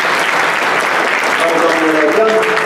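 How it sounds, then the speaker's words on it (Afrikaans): Audience clapping bursts out loud and close, a dense, even wave of applause for the performers, sustained throughout with voices mixed in. "Wil jy net vir hulle hande klap"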